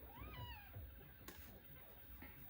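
An indoor house cat gives a drawn-out meow early on, then a shorter one, both fairly close, with faint background noise and no talk.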